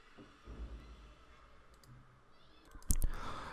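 Computer mouse clicks during STAAD Pro structural-design software work: a few faint early taps, then a sharp, close double click near the end over quiet room tone.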